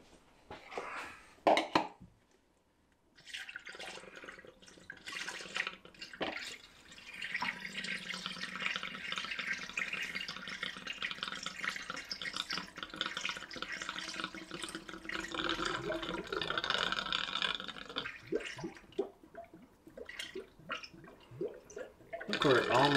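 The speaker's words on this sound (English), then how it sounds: "We get a funnel and we can pour the coolant back in." Coolant pours steadily through a funnel into a Jaguar XJ6's cooling system with a gurgling, trickling rush that runs for many seconds, with a few brief noises at the start and end.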